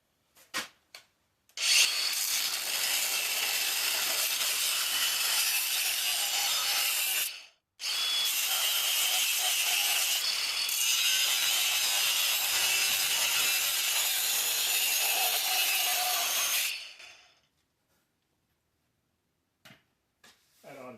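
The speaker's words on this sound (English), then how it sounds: "I got Craftsman cordless with the whiz wheel. So we'll zap these welds off, and it's going to be loud." A Craftsman cordless cut-off wheel grinds through welds with a harsh, loud, continuous screech, in two long bursts split by a brief pause, then quick scrapes and silence.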